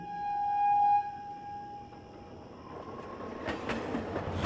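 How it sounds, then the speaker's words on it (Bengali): A train starts moving again after derailed carriages are set back on the track: a steady horn-like tone fades and gives way to a rising rumble of rolling wagons with rhythmic rail clatter, used as an effect in a supernatural story. "আবার নড়ে উঠল ট্রেন।"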